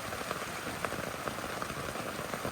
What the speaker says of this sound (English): so you can see that's where most of the rain is coming down off the tarp